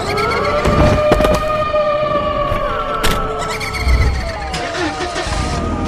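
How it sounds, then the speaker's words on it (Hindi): An ambulance siren wails loud and close, its rising and falling tones sweeping continuously over traffic-like rumble throughout. "और फिर खूनी पिग एम्बुलेंस को लेकर वहां से चला जाता है।"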